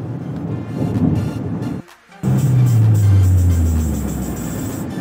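A Mahindra XUV700 on cruise control at 90 to 95 km/h along the Samruddhi highway gives a steady, loud rumble of road and engine noise inside the cabin. It drops briefly and abruptly, then returns to a low droning hum.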